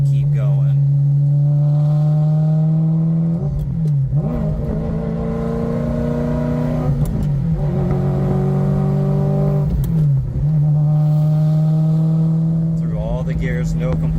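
A 1994 Ferrari 348 Spyder exhaust while driving, loud and close, with the engine revving up through the gears in repeated rising pulls broken by brief dips at each shift.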